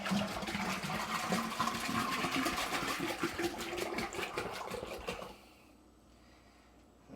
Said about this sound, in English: And then give it a good rinse.